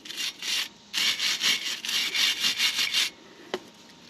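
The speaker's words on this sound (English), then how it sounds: "Take your little wire brush, brush the dirt out of them threads." Rapid back-and-forth scrubbing of a wire brush on the threads of U-bolts on a Nissan, bursts of raspy strokes with a brief pause, ending in a single light click.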